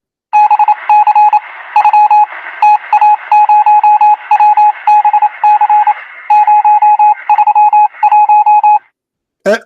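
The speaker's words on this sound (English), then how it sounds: "this is exactly what the Prophet used to receive, Morse code" Morse code signal beeps, loud and close, key on and off in rapid irregular groups of short and long pure tones, with brief pauses between bursts and a short sweeping chirp at the end.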